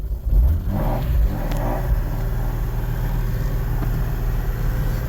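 A drift car's engine idles and revs in a parking lot at night, a loud low rumble with a couple of rising throttle blips early on before settling into a steady, close drone.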